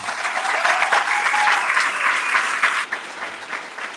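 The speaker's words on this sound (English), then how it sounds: "Please give these young men a round of applause" An audience at a mosque gathering applauds young men honored for completing a Knowledge Self Academy program, a bright, steady crowd clapping that holds for several seconds and thins slightly toward the end.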